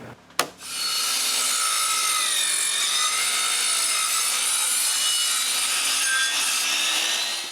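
A saw cuts steadily through overhanging wood boards on a firewood shed being built at a cabin, a continuous loud, close rasping grind after a brief knock at the start, with no voices.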